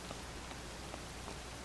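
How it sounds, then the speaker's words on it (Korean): Steady rain falls in the game Zelda: Tears of the Kingdom, a soft, even hiss that continues throughout with a few faint droplet ticks and no voices. "아이씨 비가 오네."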